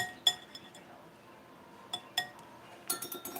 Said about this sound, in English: Stir that up just a little bit more with the whisk.